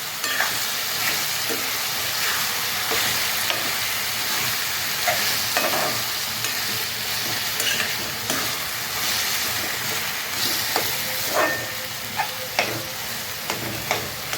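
Roasted eggplant pulp being stirred with spices and salt in a pan for bharit, a steady scraping and gentle sizzle running continuously and close with small irregular clacks of the spoon, no voices.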